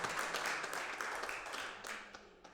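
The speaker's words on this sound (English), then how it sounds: "Can we have another round of applause?" Faint audience applause at a book launch on indigenous South African instruments, a soft wash of clapping that slowly fades over a couple of seconds.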